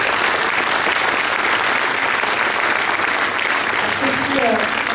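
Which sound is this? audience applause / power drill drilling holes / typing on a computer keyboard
audience applause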